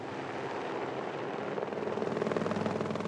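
A helicopter flies overhead in the Alps ferrying loads of supplies to mountain pastures, its loud, steady rotor roar turning into a distinct rhythmic thumping as it comes closer.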